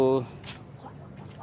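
A single short, loud quack from a duck right at the start, followed by quiet background sounds and faint voices.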